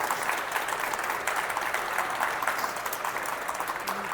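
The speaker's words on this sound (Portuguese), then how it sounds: "Maria, então, uma salva de palmas." An audience at a Python developer conference gives a round of applause, a close, dense burst of clapping that stays steady for a few seconds before easing slightly.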